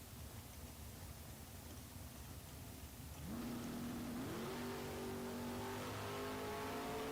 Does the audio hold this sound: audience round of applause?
no